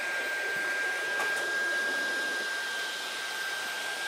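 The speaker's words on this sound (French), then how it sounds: "La brosse rotative n'arrive pas à tourner tellement la puissance d'aspiration est énorme." A Dyson Gen5 Detect vacuum runs on maximum power with its rotating brush jammed, giving a loud, steady, high-pitched whine and rushing air that holds unbroken throughout.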